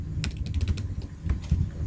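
Quick keystrokes on a computer keyboard as a command is entered into a terminal, a burst of light clicks followed by a short pause and a second cluster, close and clear with no voices.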